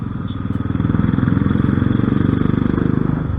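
Royal Enfield 500 cc air-cooled single-cylinder motorcycle with a custom exhaust revving nearby, a loud, deep, rapidly thumping engine pulse that rises as the throttle opens and holds steady, with no talk over it.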